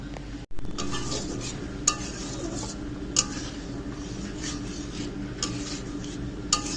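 A ladle stirs leafy greens and dal simmering in a pot, giving a steady low scraping bubble with a few sharp metallic clinks against the rim; no one talks.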